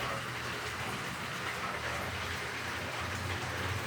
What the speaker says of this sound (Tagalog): may bagyo, umuulan